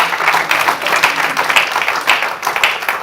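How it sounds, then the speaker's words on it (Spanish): Church congregation applauding during a worship service, continuous crowd clapping with a steady, dense texture, fairly loud and with no talk over it. "Dele otro fuerte aplauso a Jesús."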